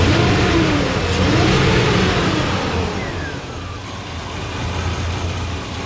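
A Chevrolet Silverado with a 5.3 V8 idles smoothly, a loud steady low rumble that eases slightly partway through, with no talking.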